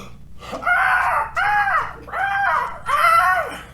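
Children imitate crow-like bird calls with their voices, four drawn-out cawing cries in a row, loud and close, with short pauses between them.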